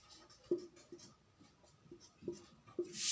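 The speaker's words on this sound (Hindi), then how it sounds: "और यहां उदाहरण लिख देता हूं" Marker or chalk strokes on a board, written by hand during a Hindi lesson: a series of short scratchy strokes and taps at an uneven pace, close and fairly quiet, with no talk over them.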